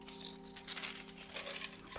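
Baking paper crinkles and rustles softly while being handled and pressed into a loaf pan, a quiet, uneven run of crackles over a couple of seconds.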